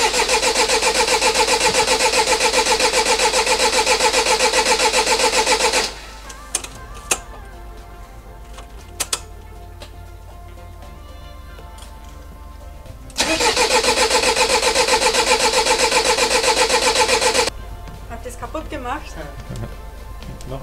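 A van engine cranks and fires up, runs loud and steady for several seconds, cuts off, then starts again and idles strongly before dropping away, with faint clicks in the quiet gaps.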